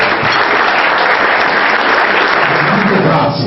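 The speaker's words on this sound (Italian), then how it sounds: "un applauso all'associazione Monteroso" Loud, dense applause fills a festive Christmas dinner hall for the Monteroso association, steady and close throughout, with voices mixed into the clapping before it thins slightly at the end.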